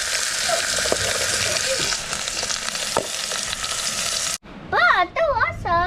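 Soup cooking in a pot with a constant hissing sizzle and occasional stirring clinks, loud and close, then cut off abruptly before a short burst of high, warbling voices.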